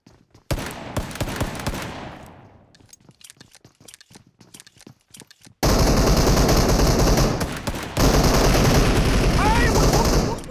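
Gunfire from the mobile battle royale game PUBG Mobile: bursts of rapid automatic shots and single cracks, loud and dense, with a lull of scattered shots before sustained heavy firing resumes.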